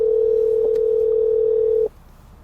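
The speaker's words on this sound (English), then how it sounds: "I'm gonna try to give them a call." A single steady ringback tone sounds when calling a property owner's phone, holding evenly for about two seconds before cutting off into quiet, with no voices.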